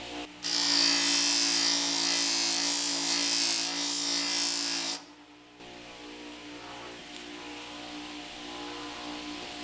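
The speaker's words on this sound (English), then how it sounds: "You can see about 10 or 15 seconds on the buffer, smooth those out really nicely." A buffing wheel works scratches out of a metal silencer, a loud, steady whirring grind with a motor hum that runs for about five seconds, then drops away to a quieter tool hum.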